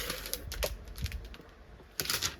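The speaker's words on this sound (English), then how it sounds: "Oh, this cellophane, I do apologise" Clear plastic cellophane wrap crinkles and crackles in irregular bursts during a diamond painting session, close and moderately quiet, with a sharper rustle near the end and no talk.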